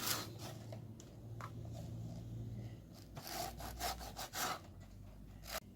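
A serrated knife saws back and forth through crusty bread, with steady rasping strokes close up and a few sharper scraping bursts toward the end.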